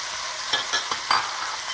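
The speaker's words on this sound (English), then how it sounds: "Give it a good stir so that the vegetables go on the bottom and start browning too." Onions and celery fry in a pot for beef stew, a soft continuous sizzle broken by a few scraping stirs, brief and close.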